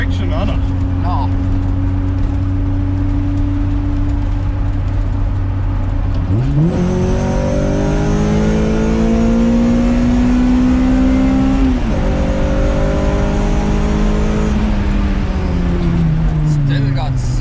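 Car fitted with Skunk2 lower control arms and a new exhaust idles low, then revs up sharply and holds a rising, loud engine note before easing back down, heard from inside the cabin.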